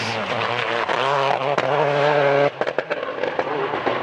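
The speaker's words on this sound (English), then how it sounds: "Even in a brand new car, the Scot's message was clear as he moved in front of Petter Solberg to steal 2nd place." Rally car at the 2003 WRC Monte Carlo on icy roads, engine roaring loud and close through rising and falling revs, then cutting into sharp crackling backfire pops as it lifts off.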